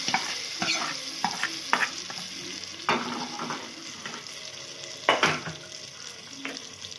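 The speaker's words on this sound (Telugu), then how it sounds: "పప్పులోకి వేసేసి కలుపుకోవాలి. ఇలా కలిపేసుకోవాలి." Hot tempering being stirred into ridge gourd dal in a pot, with soft scraping and stirring sounds and a few brief sizzling bursts, close and fairly quiet with no talking.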